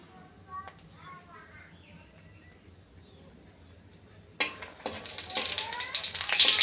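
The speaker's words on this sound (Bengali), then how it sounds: "এখানে আমি শুকনো লঙ্কা নিয়েছি চারটে এই তেলের মধ্যে দিয়ে ভেজে নেব লঙ্কাটা" Four dried red chillies are dropped into hot oil, with near silence and faint voice-like murmurs at first, then a loud crackling sizzle bursting in and building toward the end.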